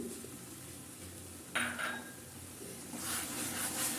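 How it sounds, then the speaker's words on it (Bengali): A spoon scrapes and clinks in a pan of sweet-sour olive pickle being stirred, one sharp clink among soft, low scraping and faint cooking noise. "নাড়াচাড়া করে নেব না হলে তলায় লেগে যেতে পারে"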